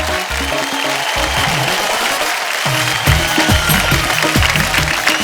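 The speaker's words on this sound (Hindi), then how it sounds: "एक बार जोरदार तालियां आ जाए।" Loud studio audience applause on The Kapil Sharma Show, a dense continuous roar of clapping with music playing underneath.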